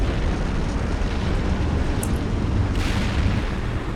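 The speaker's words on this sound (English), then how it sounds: "friendly is calling in indirect fire on their position" Indirect artillery fire in the Steel Beasts tank combat game: a loud, dense, continuous roar of explosions with no clear gaps, like a sustained barrage rumbling on.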